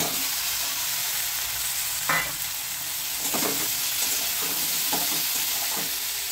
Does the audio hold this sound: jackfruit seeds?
yes